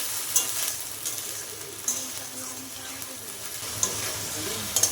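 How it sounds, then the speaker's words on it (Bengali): A spice paste of ground raw dried chillies, garlic and tomato fries and sizzles in a pan, giving a steady hiss with a few light clinks from stirring. There is no talk. "দেখো মশলাটা প্রায় কষানো হয়ে যাচ্ছে"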